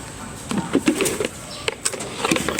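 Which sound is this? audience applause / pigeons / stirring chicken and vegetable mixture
pigeons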